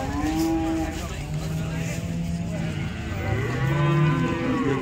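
Cows low repeatedly at a crowded cattle market in Modnimb, several long drawn-out moos, some near and some farther off, over a steady background murmur of the market.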